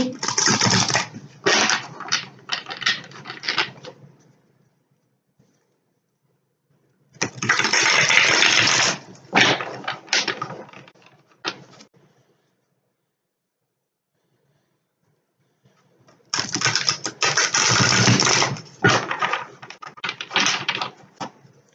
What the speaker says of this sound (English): Just give them a quick shuffle.